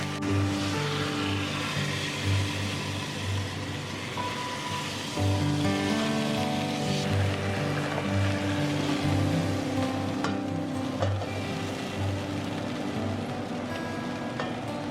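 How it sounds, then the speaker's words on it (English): Beef shank sears in a hot pan, a steady continuous sizzle and crackle running throughout at even loudness, with faint tonal hums under it and no talk. "I'm just going to be searing both sides just to bring out the flavor more"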